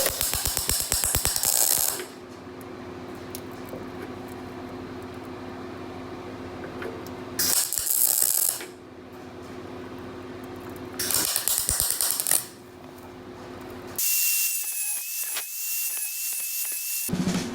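Tack welds going onto a fabricated metal rear trunk brace for a 1965 Mustang, heard as short bursts of crackling sizzle separated by steady machine hum and quieter gaps, close and loud with no speech.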